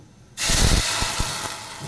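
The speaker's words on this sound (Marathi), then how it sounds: "आपल्याला अगोदर डायरेक्ट ओतायचं गरम पाणी" Hot water is poured onto a sizzling spice tempering for Maharashtrian kokum saar, setting off a sudden loud, sustained hiss of steam and sputtering with a few faint clinks, close and without speech.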